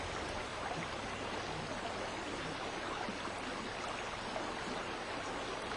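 Small stream running through a forested upper watershed, a steady broadband rush of flowing water, continuous and even throughout with no voices.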